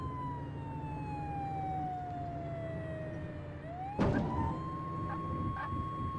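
A video game police siren wails, sweeping steadily downward over continuous engine and road rumble, then a sharp crash-like burst hits and a higher siren tone holds.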